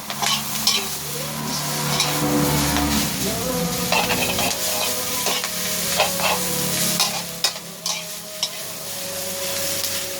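Thin white rice noodles for pad see ew sizzle in a hot wok while a spatula scrapes and tosses them, with sharp metallic clanks scattered through the loud, continuous frying.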